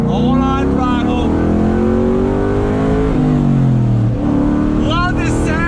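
A naturally aspirated 2021 Ford Mustang Mach 1 engine is gradually rolled onto throttle on a highway, giving a loud, steady drone that climbs in pitch as someone talks over it.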